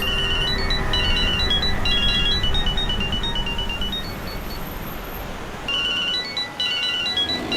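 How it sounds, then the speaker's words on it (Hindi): A phone ringtone plays a repeating electronic melody, loud and close, pausing briefly before starting again. "अरे साहब फोन बज रहा है आपका,"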